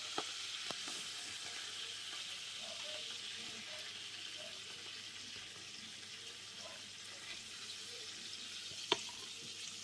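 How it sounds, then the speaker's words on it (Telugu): Curry leaves and onion frying in leftover oil for a Telugu fish curry, a steady close sizzle running through the whole stretch with a few soft clinks and one sharp knock near the end. "ఇదే ఆయిల్లో ముందుగా కలేమాకు ఆనియన్ వేసుకున్నాం"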